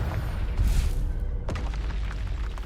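A Confringo fire spell bursting in the Hogwarts Legacy video game, a dense rumbling explosion that swells around the middle and then gives way to a sharp crack, all over continuous game noise.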